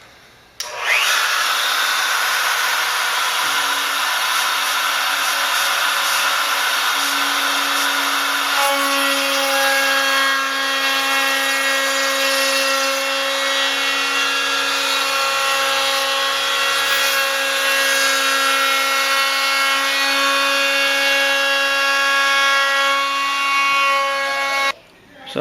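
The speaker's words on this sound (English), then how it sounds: "I'm going to do the bottom with it's about a 1/4 inch round just on the router here" A router cuts a 1/4 inch round-over along the edge of a cedar wakesurf board, giving a sustained, close, high-pitched motor whine that shifts pitch partway through and runs nearly unbroken to the end.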